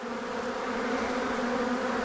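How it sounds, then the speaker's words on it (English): Agitated honey bees buzzing loudly at a defensive hive, a dense, steady drone with layered pitch bands holding without a break, close and constant throughout. "This is what unhappy bees look like."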